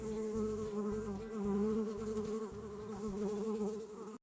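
A steady, close buzzing of bees hums throughout with a wavering drone, ending abruptly.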